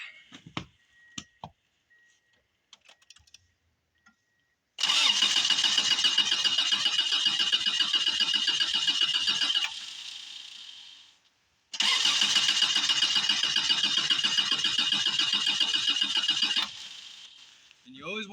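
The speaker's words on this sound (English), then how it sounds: "we're going to come up in here and turn her over and see if it works" A Subaru engine cranks on its starter in two long bursts of about five seconds each, a loud, close, rapid whirring churn without catching, separated by a pause, with faint clicks and brief talk before it.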